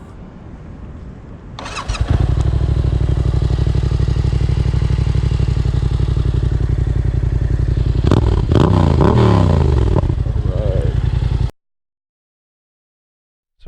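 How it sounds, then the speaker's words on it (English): A Yamaha FZ-07 motorcycle starts with a quick crank and settles into a loud, steady close-up idle, with a few revs and mechanical clatter near the end before cutting off abruptly. "Next, I guess we'll turn it on and let you hear the bike."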